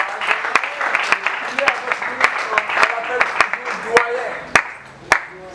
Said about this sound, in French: on va l'applaudir énormément.